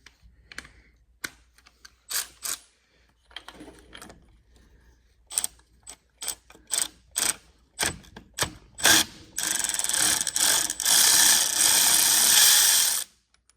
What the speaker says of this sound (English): Just take my little trusty ratchet here.